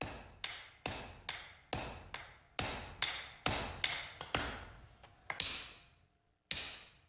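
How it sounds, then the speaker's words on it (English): A hammer strikes steel in a steady rhythm while forging a samurai sword blade, each blow a bright ringing clang that decays quickly, about a dozen hits in sequence with a brief pause near the end. "The next stage is forging, where the steel is strengthened by hammering."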